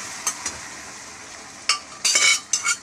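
Bottle gourd stirred with fried prawns in a pressure cooker, a low sizzle under a few bright scraping strokes of a spoon against the metal pot, close, in short uneven bursts without talk.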